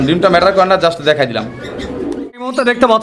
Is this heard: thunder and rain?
no